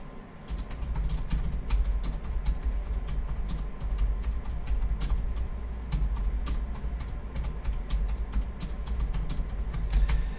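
Fingers tap out quick, uneven bursts on a computer keyboard, close and clear over a steady low hum, while editing a text prompt for an AI tool.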